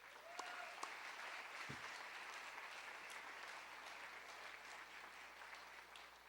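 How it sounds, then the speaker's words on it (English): Steady applause from a crowd at an awards ceremony, continuous clapping at an even level throughout with no talking. "So I'd just like to take a minute to give him a round of applause."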